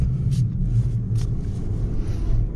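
A Jeep Renegade 4x4 drives through about ten inches of snow in snow mode. A steady, low engine rumble carries throughout, with a few brief, soft hissing bursts on top.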